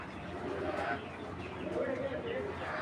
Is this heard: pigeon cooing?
yes